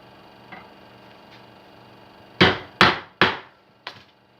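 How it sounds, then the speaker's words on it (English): Four sharp wooden knocks from a mallet tapping a truss rod into place while building a guitar, three close together and a softer fourth, after a couple of faint taps; no talking. "A little tap with a hammer first, the mallet, just to make sure it's square."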